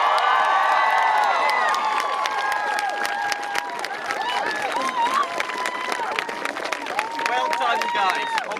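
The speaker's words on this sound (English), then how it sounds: "can we get a cheer for the nursery kids who have come out and joined us?" An outdoor crowd at a climate strike cheers, claps and shouts for young nursery children, a sustained wash of voices with high whoops and children's cries throughout.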